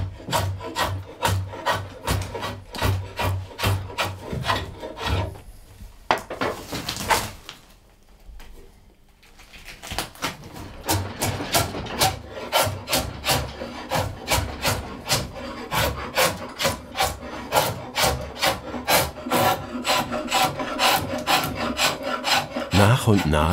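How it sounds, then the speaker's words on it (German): A master woodworker scraping wood down toward a growth ring while carving a recurve bow by hand, with steady rhythmic rasping strokes close up, a brief pause partway through, then the repeated scraping resumes, with no talking. "Immer näher schabt sich der Schreinermeister an den Jahresring ran"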